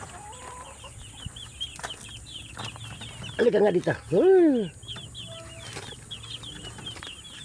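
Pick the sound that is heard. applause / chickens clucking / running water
chickens clucking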